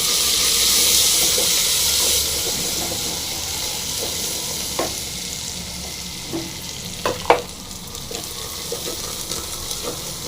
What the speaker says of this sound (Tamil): இது பாருங்கள் பூண்டு போடலாம் நல்லா கலக்கிங்க கொத்தமல்லி போட்டுடலாம்